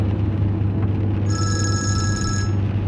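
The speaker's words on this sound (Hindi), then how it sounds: "वाह वाह, जरा देखो उमर मुझे फोन कर रहा है।" An incoming call sets a telephone ringing in one steady electronic trill lasting about a second, heard over a constant low hum of background noise with no talk.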